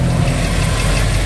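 A Nissan X-Trail T30 engine revs at a steady, loud, close drone with a low rumble; no separate clicking stands out, and no voices are heard.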